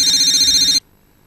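A telephone rings loudly and steadily indoors, one continuous electronic ring that cuts off abruptly, leaving near silence.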